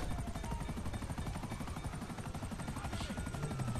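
Helicopter in the video game GTA Online, a close, continuous rapid rotor chop with a buzzing engine drone holding steady throughout, heard alone without talk.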